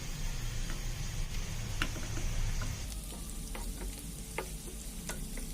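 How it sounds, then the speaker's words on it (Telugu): Carrot halwa frying in ghee with cardamom powder and almonds, a steady close sizzle filling the pan with occasional light scrapes and taps of a spoon stirring, no voices. "ఇట్లా నెయ్యి ఇడిచే వరకు ఫ్రై చేసుకోవాలి"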